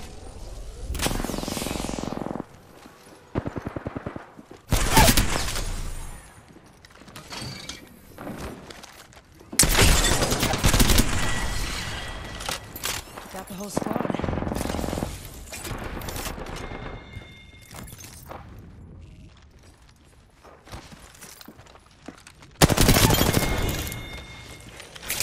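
Bursts of rapid gunfire in an Apex Legends-style shooter, coming in several loud clusters separated by quieter stretches with movement and mechanical sounds.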